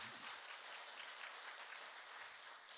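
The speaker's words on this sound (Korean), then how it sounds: "은혜를 주신 하나님께 우리 감사의 박수 한번 올려드리겠습니다" A church congregation at a Sunday worship service claps together in steady, dense applause that carries on evenly throughout, fairly quiet and with no talking over it.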